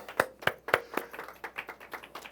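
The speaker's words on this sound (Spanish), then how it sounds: "Un aplauso para el Eterno." A few people in a Spanish-speaking congregation clap during a Shabbat service; sparse, soft, irregular claps close by, fading and thinning out within a couple of seconds.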